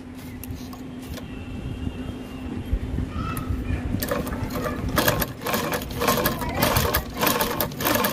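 Domestic sewing machine running with thread loaded and stitching fabric after a feed repair, a fast rattling mechanical patter that grows louder and busier over a low motor hum, close and continuous.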